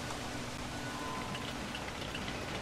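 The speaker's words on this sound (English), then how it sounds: "I'm placing a emergency bunker because it's raining" Steady rainstorm in the dinosaur park game Jurassic World Evolution, a dense continuous hiss of falling rain filling the space evenly, moderately loud with no voices over it.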